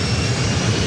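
A SkyWest jet airliner roars down runway 24 right at LAX on its takeoff run, a loud, steady broadband engine rumble that fills the whole moment.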